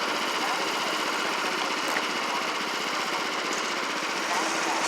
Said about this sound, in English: So he's taking off with the tractor.